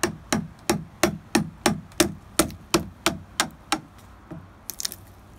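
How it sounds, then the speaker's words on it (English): A calibrated hammer taps a Warner scraper blade into the split deck edge seam of a 1978 AMF Sunfish sailboat, about a dozen sharp, evenly spaced close metallic knocks that thin out toward the end. "you start tapping with your calibrated hammer"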